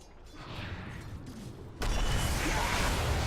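A loud in-game explosion from a Tidehunter initiation in a Dota 2 match, breaking in suddenly partway through over steady game ambience and holding as a dense, sustained roar to the end.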